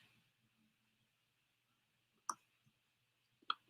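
Two sharp, distinct computer mouse clicks about a second apart, close and crisp against near silence with a faint hum.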